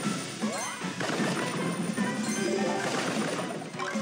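Crashing smash effects from Squad Busters as goblin units are destroyed, with busy clattering, tinkling coin-like chimes and layered game noise throughout, loud and dense.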